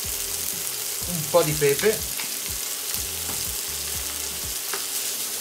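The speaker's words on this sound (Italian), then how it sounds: "Li andiamo appena appena appassire insieme con la cipolla." Hop shoots and asparagus sauté with onion in a pan, a steady close sizzle with a short spoken phrase over it partway through.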